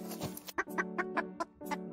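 A cartoon rooster clucks in a quick run of short, sharp calls, loud and close, with no talking over them.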